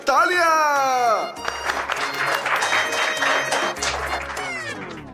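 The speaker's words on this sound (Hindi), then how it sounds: "तालियां!" Applause at a stage function in a Hindi TV serial, with a lamp-lighting ceremony about to begin, blending into steady crowd clapping over music for several seconds.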